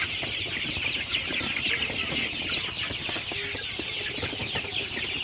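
Sonali super hybrid chickens cluck steadily inside a poultry shed, a dense continuous flock chatter with scattered sharper calls, fairly loud and close, no talking.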